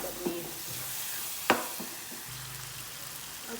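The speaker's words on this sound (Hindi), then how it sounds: "थोड़ा सा मैंने पानी डाल दिए और इस मसालों को, ये टमाटर प्याज भी, इनको मैंने अच्छी तरह एक जान करनी है।" Tomato-onion masala for chong keema simmering in a pan with a little water while being stirred. A soft, steady hiss is broken by a few light stirring clicks and one sharp scrape, with no talking.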